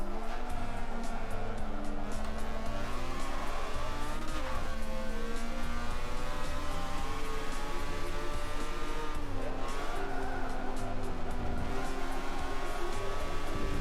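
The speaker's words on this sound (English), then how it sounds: "we are not using the V8 engine swap on this RX-7. We've kept it stock engine" A stock rotary-engined Mazda RX-7 races in Forza 7, its high, buzzing engine note revving continuously and shifting pitch through gear changes, with other race cars droning underneath and no talk.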